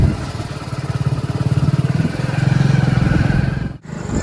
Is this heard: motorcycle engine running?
yes